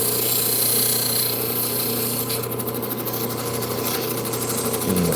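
A Dremel rotary tool with a fine polishing bit works a small crevice in a turquoise or chrysocolla stone, a steady close whine with grinding rasp throughout and slight shifts in pitch as pressure changes.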